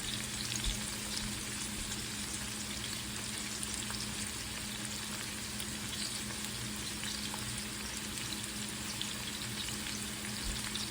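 Salt fish and yuca fry in oil in a pan with a continuous, even crackling sizzle, close and steady throughout with scattered small pops and no talking.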